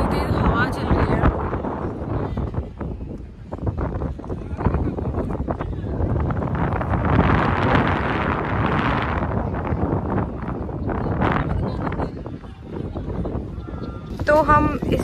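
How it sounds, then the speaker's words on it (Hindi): Strong wind roars steadily against the microphone outdoors at the Isha Foundation near Coimbatore, a loud constant buffeting with gusts, while a person talks underneath. "यहाँ पे इतनी तेज हवा चल रही है"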